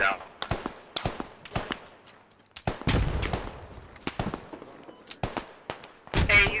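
Gunfire in the tactical shooter game Squad: sharp, irregular shots and short bursts crack out at varying distances, some close and loud, others farther off, with voices talking over the firefight.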